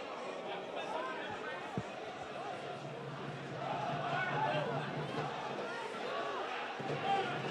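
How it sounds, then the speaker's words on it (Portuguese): Barcelona supporters fill the Carneirão stadium with crowd noise at a Baianão football match against Atlético de Alagoinhas. The chanting and cheering stays faint and distant, a continuous roar that swells slightly in the second half. "a torcida do Barcelona vai fazendo uma festa tremenda"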